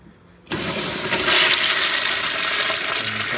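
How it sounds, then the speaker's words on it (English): A toilet fitted with a rebuilt Sloan flushometer valve flushes after a quiet moment, bursting into a loud, steady rush of water that continues close by to the end. "the toilet will flush properly"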